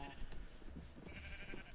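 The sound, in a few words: sheep bleating in the video game Minecraft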